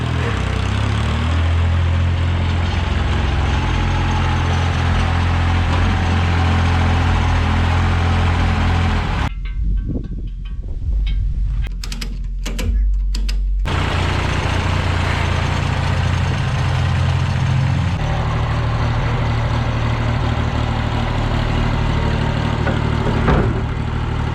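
A tractor engine idles in a steady, loud, low rumble in a workshop. It briefly dips and sputters partway through, then settles back into its even drone.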